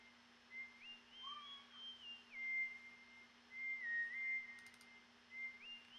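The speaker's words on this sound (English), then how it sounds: "And then I got this whistle sound." A clean whistle sound from the Diva synth by u-he plays a stepping melody of sustained tones over a steady low hum, no voices.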